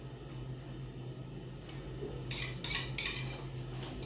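Galette dough with butter and salt is stirred in a bowl, with soft scraping and a few crisp metallic clinks of a spoon near the end over a steady low hum.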